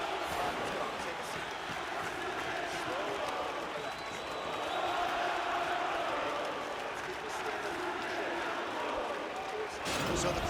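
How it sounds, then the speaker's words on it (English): Crowd cheering and applauding in the UFC 4 fighting video game after a round ends, a dense, steady roar that holds for about ten seconds with a brief swell near the end. "So the crowd voicing its appreciation after that round."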